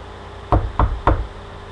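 Three sharp, evenly spaced knocks land on a thin dorm room wall, close and hollow-sounding against a quiet background.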